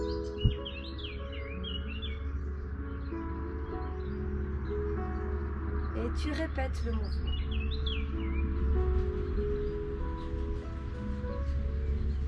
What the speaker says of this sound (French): C'est la fête ce matin, les oiseaux sont là.